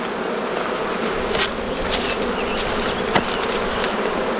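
Honey bees swarming around stacked beehive boxes, brood boxes and honey supers on a farm, producing a dense continuous buzz with individual bees zipping close past now and then, steady and without speech.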